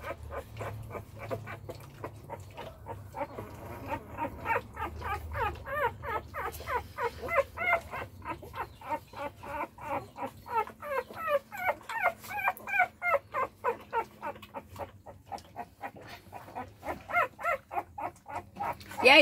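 Newborn pitbull puppies whimper and squeal in a steady run of short, high, rhythmic cries, close by and fairly loud, with a low hum underneath and no talking.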